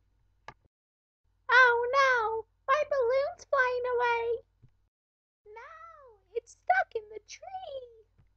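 A cat meows several times up close, long rising and falling cries in two bursts with short pauses between, loud and clear against an otherwise quiet background.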